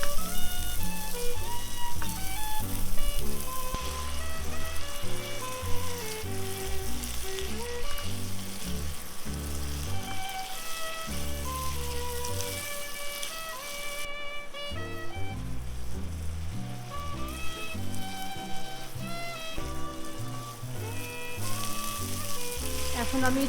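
Steamed green bananas sizzle loudly as they are stir-fried in spice paste for a hilsa curry, a steady close crackle with periodic scraping stirs, faint music or background voices faintly underneath.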